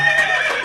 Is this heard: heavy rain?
no